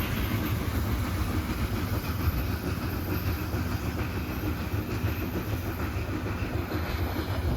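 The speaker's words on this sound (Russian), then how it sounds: "46, 47, 48, 49, 50, 51, 52, 53, 54, 55 вагонов с углем." A long freight train of coal wagons rolls past, a steady rumbling roar with faint rhythmic clicking of wheels on rail joints, heard from a moderate distance with no voices.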